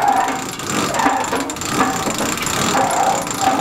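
A sailboat winch on a Beneteau Oceanis 48 ratchets continuously while the mainsail is furled into the mast, a loud, steady mechanical clicking with some background noise.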